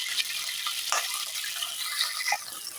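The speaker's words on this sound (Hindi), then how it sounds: "कुकिंग ऑयल हमारा गर्म हो चुका है। ये आवाज़ भी आप सुन सकते हैं।" Ginger garlic paste frying in hot cooking oil for a dhaba-style white daal mash, a steady close hiss of sizzling with a few brief crackles and spatters, no voices.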